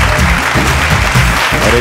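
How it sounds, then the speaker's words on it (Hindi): Thick, loud audience applause welcoming a guest on a Bhojpuri music show stage, sustained throughout while a voice speaks briefly over it. "जोरदार ताली के साथ स्वागत कर"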